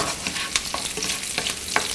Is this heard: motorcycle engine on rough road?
no